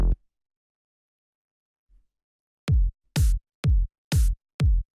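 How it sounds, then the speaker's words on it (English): A bright, sharp psytrance-style snare sample hits five times in a quick, evenly spaced run, each hit crisp and punchy with a short tail, alone after a lone opening hit and a pause. "this is just like a very bright, sharp snare like this"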